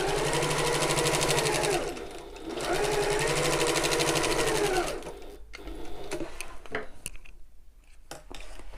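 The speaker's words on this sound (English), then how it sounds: "I am going to do that second line of stitching just to reduce the strain on that seam" A sewing machine runs a second line of stitching along a shoulder bag seam in two long, steady buzzing bursts, followed by lighter clicks and handling of the fabric.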